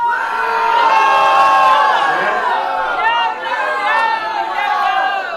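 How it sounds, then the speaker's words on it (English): A large crowd cheers and shouts continuously at a mayoral race concession speech, with whoops and high excited voices rising over a steady roar of noise. "All of you deserve a great round of applause here."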